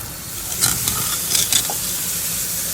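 Onion, green chili, turmeric and asafoetida tempering in sesame oil over low heat, a soft continuous sizzle with a few clicks of stirring near the pan, no talking.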